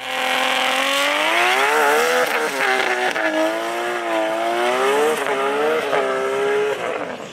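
Nissan GT-R doing a warm-up burnout at a race track, a loud sustained engine roar with wavering revs and continuous tire squeal, close and steady for several seconds before easing off.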